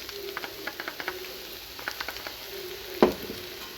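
Spice powder tipped into a kadai for a Tamil broccoli dish, then stirred: light sizzling with soft scraping strokes in an irregular rhythm, and one sharper clack near the end, close and fairly quiet.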